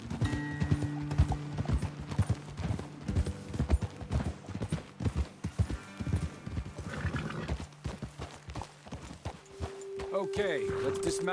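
Horses gallop with rhythmic clip-clop hoofbeats in the Red Dead Redemption 2 video game, steady and close, with a whinny near the end and people talking over the riding.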